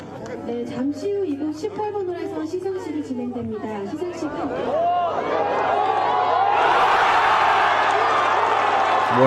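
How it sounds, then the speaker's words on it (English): Spectators at the final round of a Doosan Championship women's golf tournament in Korea break into loud cheering and applause. It swells over a commentator's voice and crowd chatter, then stays as a broad roar. "What a cheer that was from the crowd"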